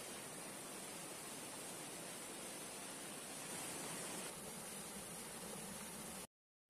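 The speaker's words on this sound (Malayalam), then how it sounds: "കലുങ്കിൽ നിന്ന് വന്നാണ് ഈ വെള്ളം വീഴുന്നത്" Water pouring from a culvert at Meenkunnam waterfalls, a steady close rush of broadband noise that holds level, then swells slightly partway through before cutting off at the end.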